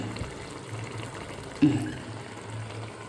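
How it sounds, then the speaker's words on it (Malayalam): Water pours steadily into a pot of boiling liquid, a low bubbling wash with a brief louder splash partway through; no voices. "ആ വെള്ളം തിളയ്ക്കുന്ന ആ ചൂടിന് കുറച്ചുകൂടി ഒഴിക്കാം"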